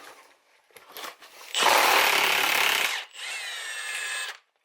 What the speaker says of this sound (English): that sucker snapped that pinion nut right off